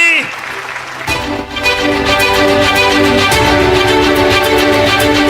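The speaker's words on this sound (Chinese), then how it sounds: "让我们再次把掌声献给尊敬的董事局主席。" At a Tiens Group 33rd anniversary gala, an audience applauds the board chairman. A brief voice opens, then clapping swells and holds loud and continuous beneath booming music.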